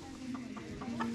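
A local chicken clucks in short, agitated bursts as someone tries to catch it. The clucking is close and clear over faint background noise, with no speech.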